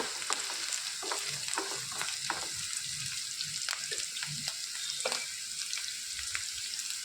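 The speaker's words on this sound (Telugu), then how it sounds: "ఉల్లిపాయలు మంచి రంగు వచ్చే వరకు వేయించుకోవాలండి" Onion, green chilli and dry chilli fry in a pan, a soft steady sizzle broken by frequent scraping spoon stirs, close but fairly quiet, with no one talking.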